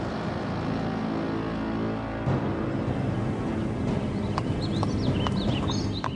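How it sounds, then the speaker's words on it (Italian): Urban carriage horses that once pulled tourists around Times Square and Central Park, hooves clip-clopping at a walk on pavement in an uneven patter, mixed with faint bird calls and a city background hum. "i cavalli urbani che un tempo giravano per Times Square e trasportavano i turisti per Central Park sono fuggiti"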